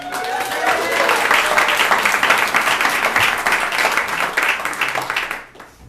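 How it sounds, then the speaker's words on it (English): A crowd applauds loudly, steady dense clapping that holds for several seconds before quickly fading out, with a few cheers mixed in. "let's give a round of applause to Brad Geiger, who does the tech up there."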